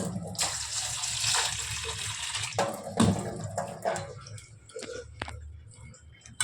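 Java plum berries washed under a running tap, water gushing and splashing into a sink close by, with handling noises and a brief voice.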